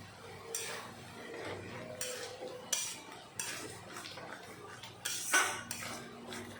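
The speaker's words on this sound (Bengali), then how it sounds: "এখন ভালো মতন কষিয়ে নেব।" Spices with turmeric and sugar being stirred and sautéed in a pan for a jackfruit and prawn curry, a metal spoon repeatedly scraping and clinking against the pan in uneven strokes, close and fairly loud.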